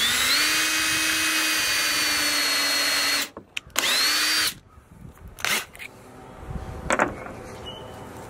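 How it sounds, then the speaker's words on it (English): A power drill bores a hole into a wooden piano being turned into a bench, whining steadily and loudly for about three seconds, then firing in two short bursts before quieter handling noises. "and then I'll drill a new one right here."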